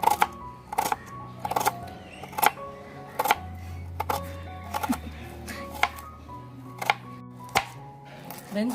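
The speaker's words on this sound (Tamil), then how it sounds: "வெங்காயம், பெரிய வெங்காயம் ஒரு 5 வெங்காயம் அரிஞ்சிக்கோங்க." A knife chops large onions on a cutting board, giving crisp, close taps in uneven bursts and pauses, with a low voice murmuring underneath in places.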